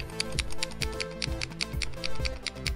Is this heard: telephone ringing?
no